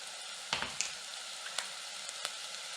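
A tablespoon of tomato paste sizzles in a hot stew pot with chicken and vegetables, a steady close hiss broken by a few soft squishy clicks and pops, with no voices.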